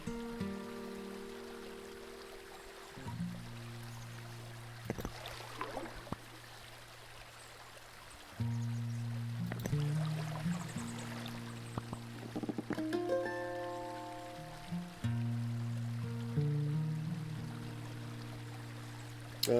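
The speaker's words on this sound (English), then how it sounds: "oh, there is a waterfall. We got constant flow here." A waterfall at Spring Falls sends out a constant, steady wash of rushing water that runs through the whole stretch, with a few layered tonal hums and brief clicks on top.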